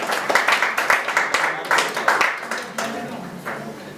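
Audience applause for Sunil Punnakkad at the URF World Record award event: many hands clapping in a dense, fairly loud burst that gradually thins out.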